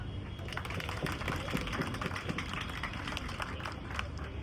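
A crowd at a drawing competition prize giving in Mumbra applauds steadily, with many overlapping claps forming a continuous, moderately distant patter.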